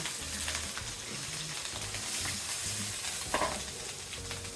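Onions stir-fry in oil in a pan, a continuous sizzle broken by repeated scraping strokes of a spatula in a loose rhythm, close and fairly loud, with no voices.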